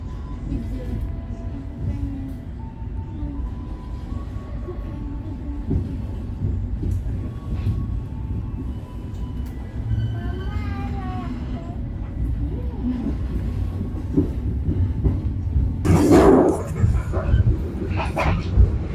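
Tegal Bahari economy-class passenger train running on the Jakarta to Cirebon line, heard from inside as a steady loud low rumble throughout, with a louder hiss or horn-like burst near the end and faint voices in the background.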